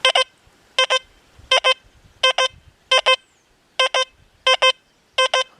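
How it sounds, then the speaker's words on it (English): A Deus 2 metal detector sounds its double beep over a nickel, eight crisp paired tones repeating at a steady pace against near silence. "We can still hear that double beeper."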